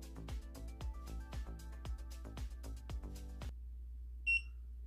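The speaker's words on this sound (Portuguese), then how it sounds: "se o cartão for com o NFC, basta aproximar da máquina e aguardar o bip" Rhythmic music plays, then cuts out, and a Mercado Pago Point Mini NFC ME30S card terminal gives a single short electronic beep, clear in the quiet, as a contactless card is tapped.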